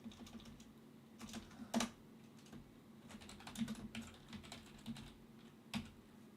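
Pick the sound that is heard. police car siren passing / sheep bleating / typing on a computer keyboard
typing on a computer keyboard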